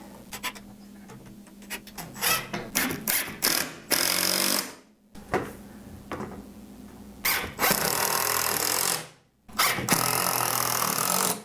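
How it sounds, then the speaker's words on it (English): A power drill drives 2-inch gold screws into a wooden shelf in several bursts, some short and stuttering, others long and steady, with brief pauses between them; close and loud. "I'm just going to get the screws started here first."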